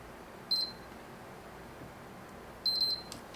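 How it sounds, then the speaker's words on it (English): A PlayStation 3 console gives two short electronic beeps about two seconds apart in an otherwise quiet room, followed by a faint click. "This time you will hear the 2 beeps and it will work"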